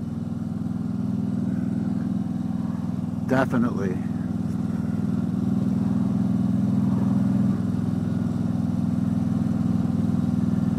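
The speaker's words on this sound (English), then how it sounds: "can hear the pro pipe." Deep, steady rumble of a Harley-Davidson motorcycle engine through a pro pipe exhaust while cruising on a suburban road, loud and continuous, with a short spoken word partway through.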